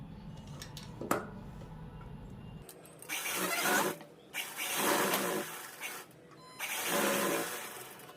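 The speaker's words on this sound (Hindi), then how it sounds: "एक सिलाई लगा ली, अब यहीं से फिर से शुरू करेंगे और एक सिलाई और लगा लेंगे।" Sewing machine stitching a seam on a lined kurti, running in three loud sustained bursts with short pauses between, preceded by quiet handling of fabric.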